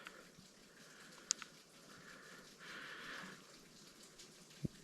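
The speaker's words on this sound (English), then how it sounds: "Hear the water running" Water running outdoors beside a CN railway line, a soft steady trickling wash, fairly faint, with a couple of brief sharp clicks over the low background.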